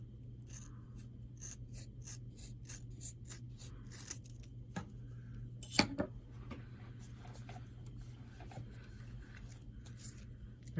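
Scissors snip through folded paper while a playing card notebook is assembled, giving a run of short, close, crisp cuts over a steady low hum.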